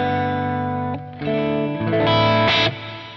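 A sustained electric guitar tone drenched in repeating stereo delay echoes, with chords shifting and notes smearing into each other.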